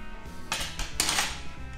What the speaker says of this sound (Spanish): vamos a darle la vuelta al solomillo para que se quede doradito también por el otro lado